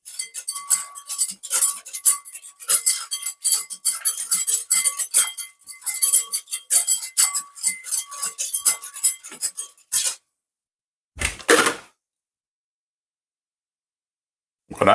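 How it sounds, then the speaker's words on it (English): A whisk stirs a yeast mixture in a bowl for Jamaican plantain bread, giving rapid, close metallic clinks and ticks for about ten seconds, then silence broken by one short scrape. "I'm just going to use a whisk and just stir them in."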